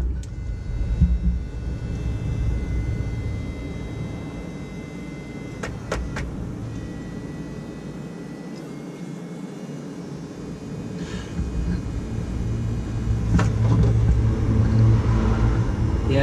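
A pump runs during an oil change on a Crown, a steady low motor rumble and hum that continues throughout, swelling louder toward the end, with a few faint clicks.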